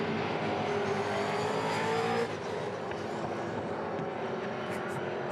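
V8 touring race cars at Queensland Raceway roar past at a steady high level, a dense engine drone that dips slightly midway, with a commentator's voice running underneath.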